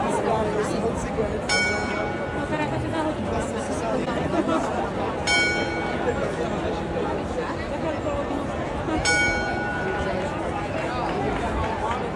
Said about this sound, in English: the clock bells echo through the square